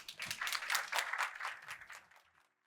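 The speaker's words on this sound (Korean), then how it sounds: "큰 박수로 환영해 주십시오." Audience clapping to welcome a speaker at a defense industry summit, distinct claps blending into moderate applause that peaks quickly, then thins and fades out within about two and a half seconds.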